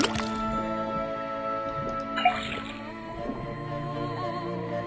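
Liquid dripping and trickling from a faucet in a video game amid a sustained tonal hum, with a brief gurgle midway.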